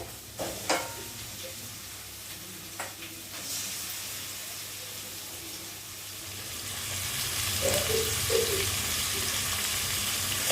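Mutton goes into a pan of spice paste and fries, first a few knocks and scrapes of stirring, then a rising, steady sizzle that grows louder toward the end.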